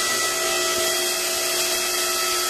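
A homemade tubing twister machine twists 1x1 square steel tubing, giving a loud, steady high-pitched mechanical whine with constant tonal hums that holds evenly and never lets up.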